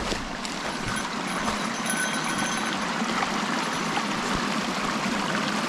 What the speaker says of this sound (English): All these streams.